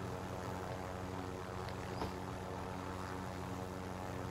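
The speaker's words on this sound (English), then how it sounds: "Oh, there's another helicopter out there." A helicopter in Call of Duty Warzone, a continuous steady engine and rotor drone with no clear approach or fade, layered with game background noise throughout.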